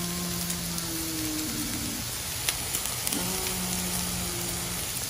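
Bacon bits and Brussels sprouts sizzle steadily in a pan on a stovetop, a constant crackling hiss with small pops scattered across the whole stretch, fairly close and unbroken.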